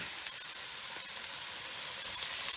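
Mince frying in a pan for a pasta bake, a continuous soft sizzle and hiss, fairly quiet and steady throughout with no talking.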